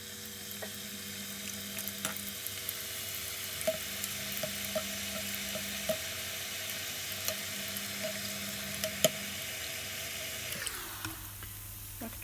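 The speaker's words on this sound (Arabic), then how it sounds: "شوفوا معايا كاع نقلي" Griwech dough sizzles steadily in hot frying oil, a continuous bubbling hiss with faint clicks and light stirring, close and moderately quiet with no voices.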